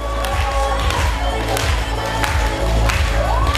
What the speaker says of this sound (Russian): Ну, аплодируйте нам.